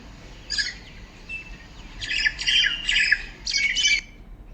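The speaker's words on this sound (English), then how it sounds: "What you're hearing is the vocalizations of a very common bird, the common myna." A common myna lets out a loud, near series of raspy squawks and chattering notes in clustered bursts, a single call first and then several in close succession, with no other voices.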